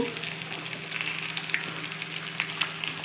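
Four eggs frying in a pan make a steady, close sizzle with small crackles and pops scattered through it, and no voices are heard.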